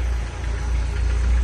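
1978 MG B GT idling nearby, a steady deep low rumble with a faint pulsing throb and no speech over it.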